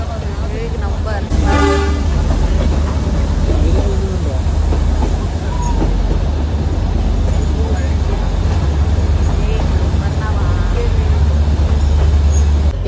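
A toy train horn sounds at Matheran hill station, one long stepped toot near the start over loud, constant rumbling train noise, with people talking nearby.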